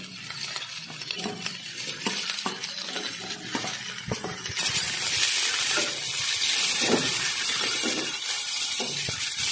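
Chopped onions frying in a spoonful of oil in a kadai for mushroom curry, with clinks and scrapes of a spoon stirring against the pan; the sizzle swells louder and steadier halfway through.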